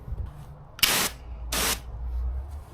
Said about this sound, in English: This is the inert training unit for my bear spray